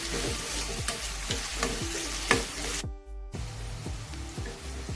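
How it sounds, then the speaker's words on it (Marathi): Onion with chopped green chillies and curry leaves sautéing in a pan, with continuous close sizzling and a regular series of stirring scrapes. The sound breaks off briefly partway through. "आता आपला कांदा चांगला परतवून झालेलं आहे."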